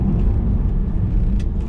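Tesla Model 3 in track mode powering hard out of a corner on a track, a loud continuous roar of road and motor noise with a steady rumble throughout.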